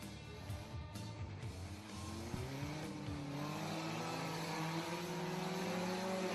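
Four-cylinder bomber race cars roar off at the start of a heat race on an oval track, several engines revving and accelerating together in a loud, continuous drone with rising pitch.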